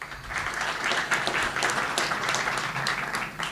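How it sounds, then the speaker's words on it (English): Audience members at a state bar association assembly meeting give sustained applause for district representatives, a continuous, even patter of many hands at moderate distance. "You can clap."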